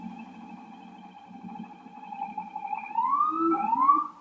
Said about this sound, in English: Sirens for emphasis.